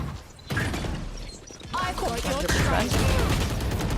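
Gunfire punching through a wall in the tactical shooter Valorant during a tournament match, a short burst of shots crackling over the game's sound effects while a caster talks excitedly throughout.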